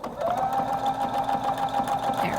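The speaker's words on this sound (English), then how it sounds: "when it starts sewing, it's going to go backwards first" A Husqvarna Viking Designer Brilliance 80 sewing machine stitches a buttonhole, its motor humming steadily with a rapid, even needle rhythm at close range and no talking.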